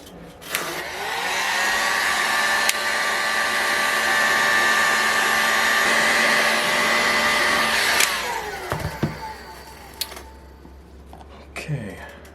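A heat gun warms the crankcase of a Saito FA-90T model engine. It gives a steady, loud blowing whine for about seven seconds, then cuts off and winds down. A few handling clatters follow.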